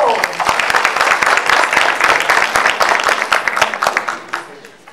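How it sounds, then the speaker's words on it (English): Dense audience applause at an education panel event on the Fourth Industrial Revolution, greeting a dean about to give closing remarks; the clapping is loud and sustained, then thins out and fades over the last second. "A round of applause."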